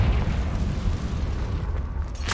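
A Confringo fire spell explosion in Hogwarts Legacy, a dense rumbling blast filling the moment, loud and close, with a sharp crack at the very end.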